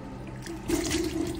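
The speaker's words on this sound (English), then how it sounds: "this is how to wash your nails before you cook." Tap water runs over hands at a sink while the nails are washed before cooking, a steady splashing stream that grows fuller and louder partway through.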